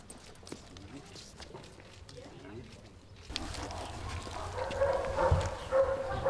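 A dog barks at a Jordanian police sniffer-dog facility, with short barks and scuffling movement rising in the second half over a busy indoor background.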